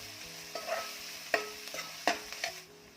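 Finely chopped onion frying in a pan with garlic and a pinch of salt while cooking fenugreek greens, a steady sizzle broken by four or five distinct scraping stir strokes, close and moderately loud.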